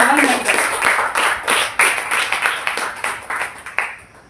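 A church congregation claps during a sermon, with a run of brisk, fairly close hand claps that repeat in uneven bursts and fade toward the end, while a voice talks over them.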